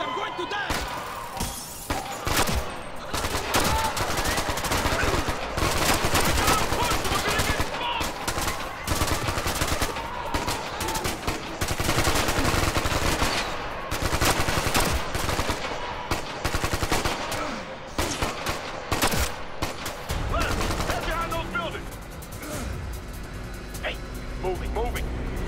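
Rapid automatic gunfire in the video game Ghost Recon Future Soldier, with loud bursts and rattling volleys repeating almost nonstop, mixed with game effects and occasional talk.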